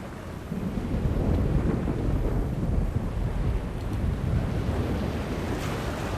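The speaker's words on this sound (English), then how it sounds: "A storm approaches, April, and it is no ordinary storm." Storm wind and crashing waves from The Longest Journey video game roar in a dense, continuous wash, steady and loud throughout with no voices.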